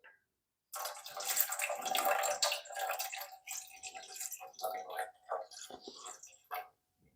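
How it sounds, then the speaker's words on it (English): Lukewarm water pours into a bowl for pizza dough, a quiet, close splashing trickle lasting several seconds with a few brief pauses. "So we start with 240 grams of lukewarm water."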